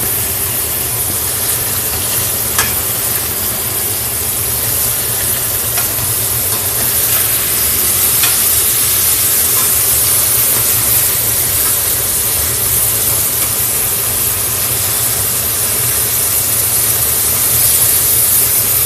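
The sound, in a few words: burgers frying and sizzling in a pan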